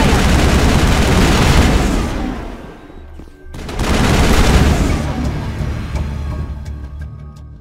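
Dense gunfire roars through a Mass Effect firefight: sustained loud bursts of weapon fire, a brief lull near the middle, then another long heavy barrage that tapers off with scattered shots.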